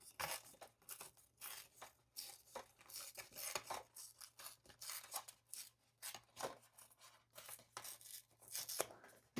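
Patterned craft paper is ripped off by hand in a series of quick, raspy tearing strokes, soft and close, with no voices.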